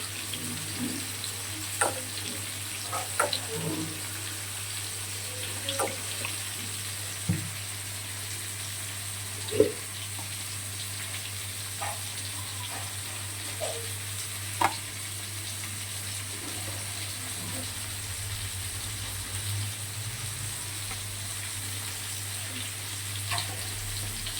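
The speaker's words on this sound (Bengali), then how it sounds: "মাছগুলোকে ভেজে নিয়েছি ভালো করে।" Katla fish fry in oil in a wok, producing a steady low hiss of sizzling with scattered sharp pops and light clinks of stirring, close and without any talking.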